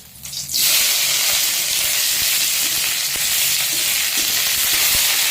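Oil in a kadai at an outdoor jungle-side cooking spot breaks into a loud, steady hiss and sizzle after a brief quieter start, holding on with a few small pops and crackles.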